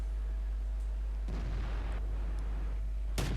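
Tank cannon fire in World of Tanks, two heavy booms some seconds apart, the second sharper and louder, over a steady low engine rumble.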